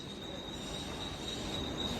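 A train at Karjat railway station with wheels squealing against the rails, a thin, sustained metallic screech over a low rumble of moving carriages, moderately close and without talk.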